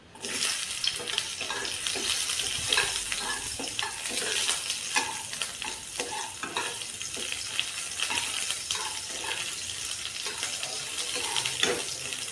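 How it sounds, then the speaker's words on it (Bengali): Chopped onions and garlic fry in a pan with a continuous close sizzle, broken by frequent scraping and stirring sounds throughout, with no talking. "কেটে রাখা পেঁয়াজ রসুনগুলো ভালোভাবে ভেজে নেব।"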